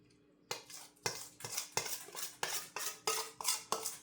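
Noodles, peas and sauce being stirred together in a pan, giving a steady run of close, repeated scraping and clattering strokes of a utensil against the pan, about a dozen in a loose rhythm.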